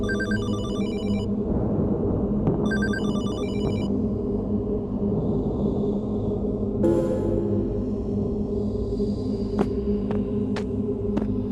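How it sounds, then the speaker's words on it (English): In the Hollowbody video game apartment, a telephone rings in repeated electronic bursts over a low ambient rumble, followed by sparse faint clicks and tones, with no talking. "Now we can answer the phone"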